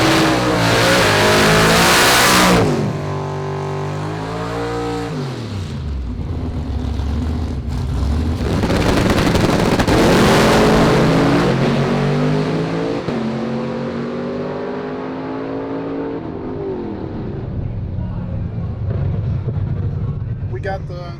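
A tuned Dodge Durango running nitrous revs hard and accelerates, loud and close, its engine note climbing and dropping through several surges over about twenty seconds before trailing off.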